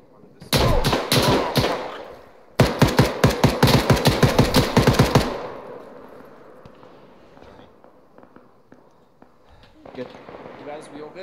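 Rapid automatic gunfire from an Arma 3 military battle, loud and close, in two sustained bursts of sharp shots, followed by quieter distant shots and faint background sounds.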